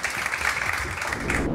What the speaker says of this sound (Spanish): Un fuerte aplauso para Rafael.